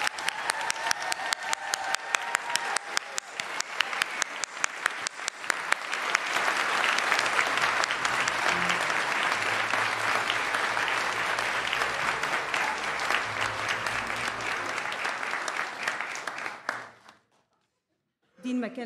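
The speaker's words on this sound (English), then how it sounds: "Now let's give our graduates a big round of applause." Audience applause for pharmacy school graduates at a hooding ceremony, clapping starting as distinct claps and swelling into a full, sustained ovation for about seventeen seconds before stopping abruptly into silence.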